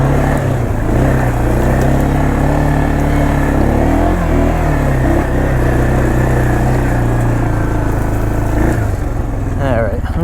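A 1996 Arctic Cat 454 Bearcat 4x4 ATV putters along at low speed off-road, its engine giving a loud, steady, close drone with only slight changes in pitch over the whole stretch.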